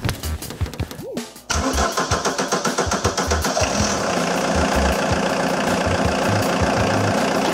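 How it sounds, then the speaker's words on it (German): An old Ford Escort diesel estate cranks over and catches after years standing, settling into a loud, steady, knocking diesel idle close by. "Karre springt an."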